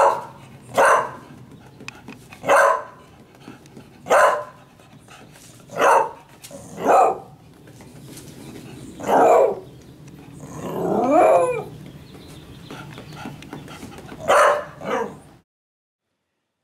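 A dog barks loudly and repeatedly, single deep barks spaced a second or two apart, with a brief growling howl in the middle, then silence.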